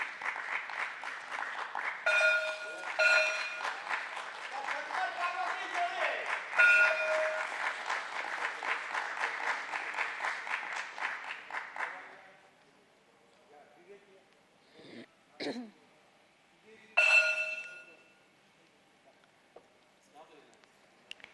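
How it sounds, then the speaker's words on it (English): An audience at a company stock listing ceremony applauds, a steady, moderately distant clapping that runs for about twelve seconds before fading, with later short bursts and a voice speaking. "the applause should not stop"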